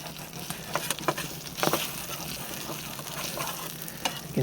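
Scrambled eggs (six) and cooked chorizo sausage sizzle steadily in a pan at a campsite, a continuous close crackling fry with occasional louder pops and spatters, no voices.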